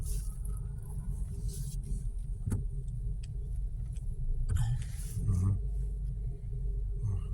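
A car's engine rumbles steadily from inside the vehicle while driving in Kings Park, Perth, a constant low drone with occasional small rattles and clicks.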